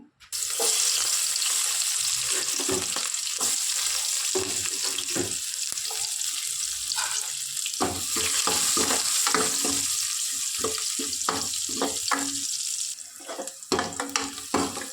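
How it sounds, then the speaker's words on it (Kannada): Onions frying in hot oil in a pan for a vegetable dish, heard as a loud, steady close sizzle with crackles and scraping stirs throughout. "ಎಣ್ಣೆ ಬಿಸಿ ಆಗಿಬಿಟ್ಟಿದೆ ಇವಾಗೆ ಈರುಳ್ಳಿ ಹಾಕೊತಾ ಇದ್ದೀನಿ"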